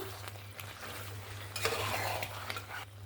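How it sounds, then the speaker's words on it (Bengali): Potato and capsicum being stirred into chicken in a pan, a steady scraping and shuffling with soft sizzling beneath, a louder burst of stirring midway, no voices. "আলু আর ক্যাপসিকামটা মাংসের সঙ্গে ভালো করে মিক্স করে নিয়েছি।"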